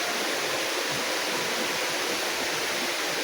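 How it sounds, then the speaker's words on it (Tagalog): A river rushes steadily in the open, a dense, continuous wash of flowing water close by with no voices over it. "Ilog."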